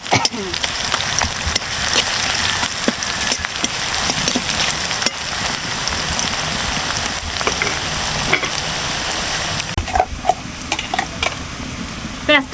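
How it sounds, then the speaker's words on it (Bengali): Onions frying in a pan of spiced oil for duck curry, cooked until reddish brown: a continuous bright sizzle with scraping stirs and sharper pops near the end, close and loud, no speech. "পেঁয়াজটা সুন্দর করে লাল লাল করে ভাজা ভাজা করে নেব।"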